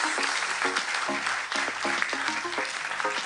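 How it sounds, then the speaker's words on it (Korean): Audience applause at the Seoul SIGNIS World Congress 2020, a dense steady clatter of many hands alongside harmonic tones from a voice or music underneath, sustained at even loudness throughout. "네, 박수 보내주세요."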